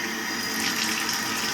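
A faucet with a leak at the connection underneath runs in a steady, close hissing stream of water, continuous throughout with a small knock at the end.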